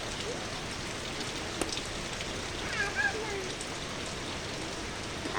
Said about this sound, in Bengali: বৃষ্টি কমে গেছে, কিন্তু বৃষ্টি কমে গেছে।